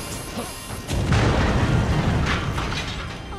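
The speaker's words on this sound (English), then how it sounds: "A little explosion did all that." An explosion in the video game Stranger of Paradise erupts with a sudden heavy boom, then rolls into a loud, sustained rumble that slowly fades.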